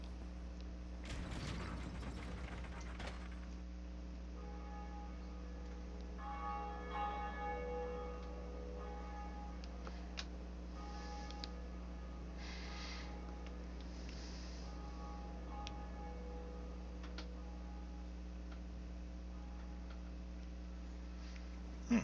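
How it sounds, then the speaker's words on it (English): After a lever is pulled in Dark Souls, a bell rings with a tolling, ringing tone over a steady low mechanical hum, with a burst of clanking near the start and faint ticking clicks afterward. "First Bell of Awakening?"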